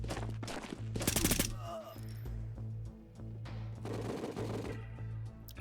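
An M240B machine gun fires in the shooter game Tabor: sharp bursts of rapid automatic fire, loudest near the start and again later, with some shorter cracks and shuffling movement between them.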